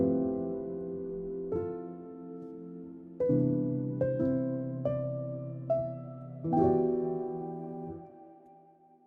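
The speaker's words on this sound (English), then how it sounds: "7th and 9th to every single chord, and it will sound something like this." A chord progression with a 7th and 9th added to every chord plays as a slow series of about seven struck chords, each ringing out and decaying before the next, solo and fairly quiet.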